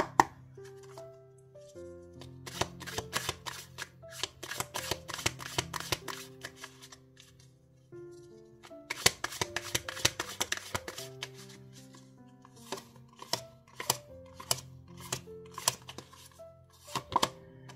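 Tarot cards are shuffled and laid out for a hexagram spread, with close, crisp flicks and snapping riffles in dense bursts separated by short pauses, over soft background music.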